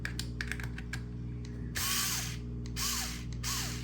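Screwdriver prying and undoing plastic clips on the head of a Watersnake T24 trolling motor, with a series of sharp close clicks and two louder scraping bursts over a steady low hum.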